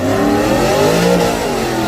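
A Cummins diesel pickup truck at a street-racing strip revs hard and steadily, its loud, close engine roar holding with rising harmonic drone for the full span, no voices over it.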